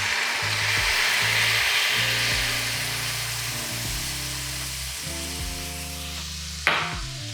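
Cream poured into hot melted golden sugar caramel, a close, steady sizzling hiss that gradually settles, with a sharp clatter near the end and a constant tonal hum underneath.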